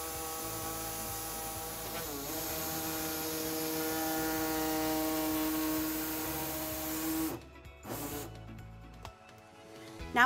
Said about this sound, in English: today we'll be using an air saw to trim our fascia